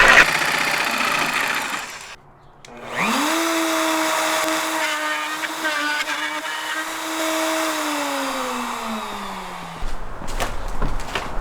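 A jigsaw cuts through a new floor panel inside a 4x4 Sprinter van, its motor whining loudly and steadily for about seven seconds after a brief start-up, slowly dropping in pitch before it stops.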